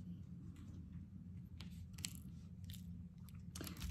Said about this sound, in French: vous entendez peut-être des petits craquements. C'est le chat qui mange ses croquettes